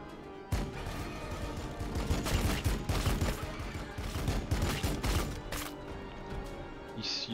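Heavy volleys of gunfire and impacts in the strategy battle game Warhammer 40K Battlesector, a dense crackling barrage of mid-loudness shots rolling on for several seconds before thinning out.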